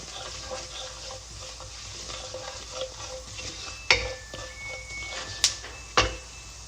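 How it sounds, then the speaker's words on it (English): Coriander seeds sauté in a pan with a soft, steady sizzle and frying crackle, broken by a few sharp clinks of utensils against the pan toward the end. "add coriander seeds. Saute"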